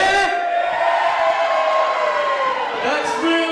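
A crowd at the RCW Key To The City 2019 wrestling show roars and chants in a loud, sustained wave that fills the hall without a break.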